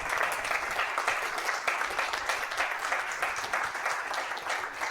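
Sustained applause from an audience at the close of a university session, steady and dense clapping throughout at a moderate level, with no break or speech standing out.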